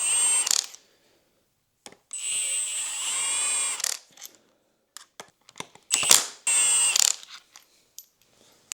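Sharp bursts of an impact wrench with a chrome socket hammering on flywheel bolts of a Lexus IS300, four short loud whirring blasts separated by silences and small metallic clinks.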